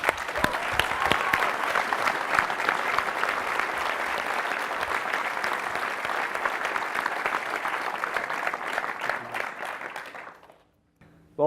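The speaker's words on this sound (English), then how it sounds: "Let's give them a round of applause." Sustained audience applause at a tech conference keynote, dense and steady for about ten seconds before tapering off abruptly near the end.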